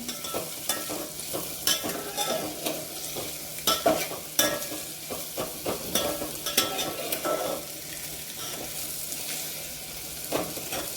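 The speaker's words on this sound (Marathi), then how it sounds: "आपल्याला तेलात पण थोडं परतून घ्यायचं आहे" Cluster beans sautéed in oil, with a steady sizzle throughout and frequent sharp scraping and tapping strokes from stirring, close and fairly loud, no voices.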